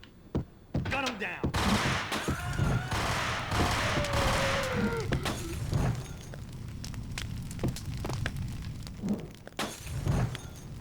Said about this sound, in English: Gun him down.